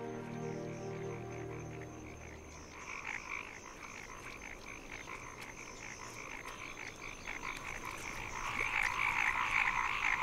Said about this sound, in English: Male paddy frogs call out to attract a nearby female.